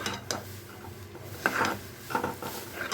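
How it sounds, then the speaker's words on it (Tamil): A spoon stirs palak dal cooked with green tamarind and lentils in a pot, giving intermittent scraping and clinking against the metal at close range with no talking. "இப்போ இதை நல்லா கலரி விட்டுடலாம்"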